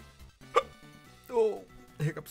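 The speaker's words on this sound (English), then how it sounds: "hiccups, why?" A few sharp hiccups, one every half second or so, close up and mixed with short voiced squeaks and murmurs from the same person.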